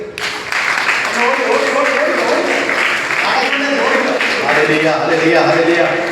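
A church congregation at a parish retreat claps together, a sustained, dense wash of hand claps filling the room from start to finish, with voices mixed in beneath it.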